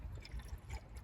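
Water pours into a small camping pot in a soft, faint burbling trickle with a few gentle pulses over about a second, close by and quiet.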